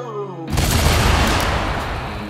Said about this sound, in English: Good job with all the explosions. C4 detonated right on precision.